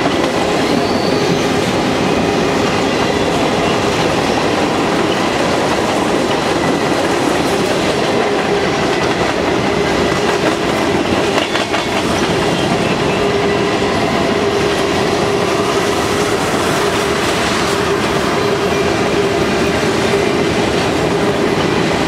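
A CN freight train led by three locomotives rolls steadily past, a loud continuous rumble with rail clatter and a faint wheel squeal, no voices heard.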